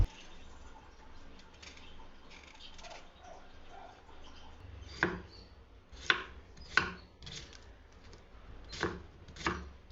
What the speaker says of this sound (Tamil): ஃபர்ஸ்ட் நம்ம ஜூஸுக்கு வெள்ளரிக்காவை கட் பண்ணி சீவிக்கலாம்.